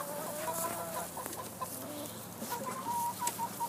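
Several chickens cluck softly and continuously nearby, with overlapping short calls and low murmurs.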